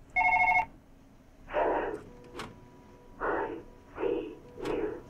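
A video game telephone gives one short, loud electronic ring at the start, then cuts off as several people talk in bursts.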